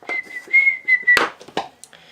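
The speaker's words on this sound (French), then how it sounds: "je suis vraiment très chiante à siffler" A woman whistles a sustained, steady tune at close range, one long held note that breaks off into clatter and brief rustling, with no talking.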